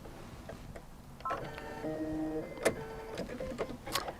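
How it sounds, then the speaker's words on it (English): A Mettler sewing machine automatically threading its needle, a quick series of whirring motor tones and mechanical clicks, close and moderately loud, with no talking. "I can watch that machine thread all day"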